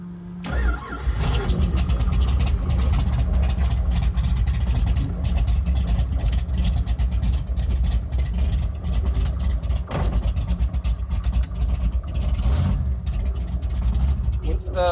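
1941 Willys gasser with a supercharged Dart 601 engine and 1071 blower firing up, a sharp start followed by a loud, lumpy, rumbling idle with occasional revs, close by and continuous, with voices talking over it.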